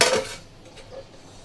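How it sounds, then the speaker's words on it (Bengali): A lid clatters onto a cooking bowl of marinated methi chicken with one brief metallic clink at the start. Only faint room quiet follows. "এই যে এইভাবে আমি ঢাকা দিয়ে এখন রেখে দেবো"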